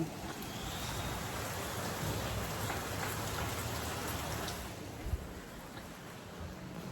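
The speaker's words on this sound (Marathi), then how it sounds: "पाऊस भरपूर चालू आहे आता" Heavy rain pours down steadily in a Thane village, a dense, even hiss of drops on surfaces that carries on without a break, with a single louder knock near the end and no one speaking.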